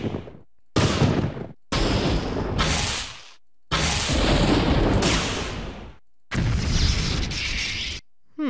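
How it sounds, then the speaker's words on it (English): Thunder sound effect from the RPG Maker VX Ace game engine's built-in library: four separate loud rumbling crashes, each lasting one to two seconds, divided by short silences. "Oh, thunder."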